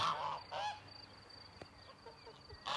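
Several farm geese honk in short bursts, fairly close, with quieter gaps and faint background noise between calls.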